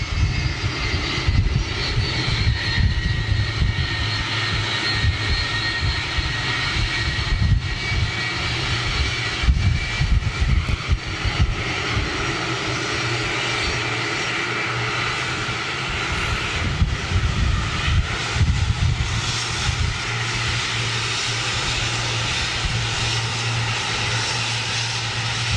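A jet airliner with Rolls-Royce engines produces a sustained, fairly close engine roar with a steady low drone and fluctuating rumble, continuing without a break and without speech.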